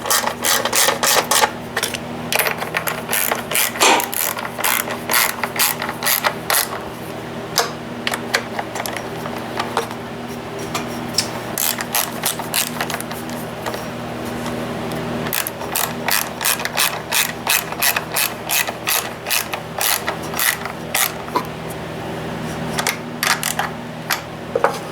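A small blue generator with a freshly cleaned carburetor is cranked over and over, giving a long run of rapid mechanical ratcheting clicks in irregular bursts. The sound is close, loud and steady, with no talking.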